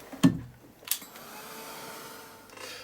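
A dryer runs to dry paint on an art journal page. After a couple of sharp clicks, it settles into a faint, steady whir.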